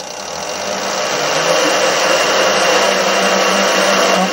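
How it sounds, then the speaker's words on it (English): A mini lathe spinning up and running steadily, a close continuous motor whine and hum that builds over the first second and then holds level. "Turn on the lathe."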